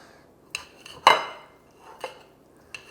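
Cutlery clinks and scrapes against a plate while microwave-warmed chicken is cut up, with a sharper knock near the middle and a few lighter taps spaced around it, close and fairly quiet.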